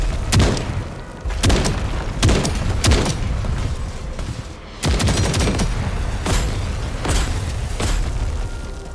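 Missile explosions in the video game TankHead, a rapid series of loud booming blasts and gunfire-like bursts, repeating roughly every second in a dense, continuous barrage with no talk.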